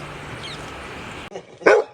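Outdoors in the morning, a dog lets out a single loud, close bark near the end after a stretch of steady background noise.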